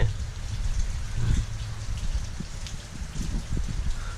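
Rain falls across rice fields set among mountains in Laos on a morning in the rainy season, a steady, moderately loud patter with no break.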